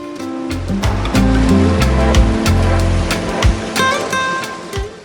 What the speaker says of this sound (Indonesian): Kombinasi pantai biru dan suara ombak bisa kedengaran dari perjalanan ini.